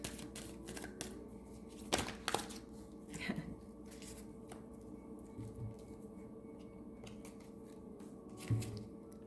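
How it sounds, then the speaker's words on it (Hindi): Tarot cards being shuffled and drawn on a table, giving crisp papery flicks and snaps in quick irregular bursts, fairly close and moderately quiet. "एक और कार्ड ले लेते हैं हम लोग।"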